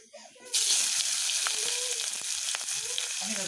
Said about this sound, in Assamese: সেইকণ তেলতে মই পিঁয়াজখিনি দি দিছোঁ